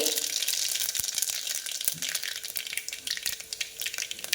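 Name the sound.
mustard seeds and cumin sizzling in hot oil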